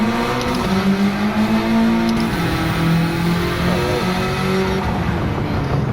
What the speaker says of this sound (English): That is the Honda Civic.